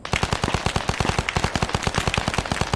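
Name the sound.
gunfire in the video game Arma 3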